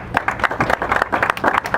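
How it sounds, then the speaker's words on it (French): A press conference audience breaks into brief applause, quick, close hand claps in a brisk, uneven patter that lasts under two seconds, fairly loud with no speech over it. "Sous vos applaudissements, s'il vous plaît"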